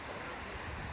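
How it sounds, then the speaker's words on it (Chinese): A waterfall in the Hokkaido mountains gives a steady, broadband rushing roar throughout, with wind noise on the microphone and no voices. "眼前这边就先看到一个瀑布了"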